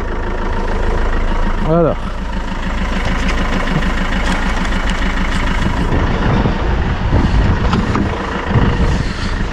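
Renault Master diesel van idling right after a cold start at 5 degrees, a close, steady low rumble running throughout while someone talks briefly over it.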